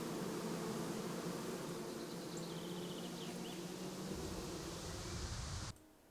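Bees hum in a steady, dense drone in the video game Kingdom Come: Deliverance, loud and continuous for several seconds before cutting off abruptly.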